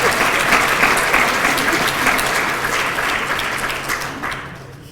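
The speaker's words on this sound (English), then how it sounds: "You can applause for" Audience applauds a returning alumnus at a half-century university reunion, a full wash of many hands clapping steadily before thinning and fading out at the end.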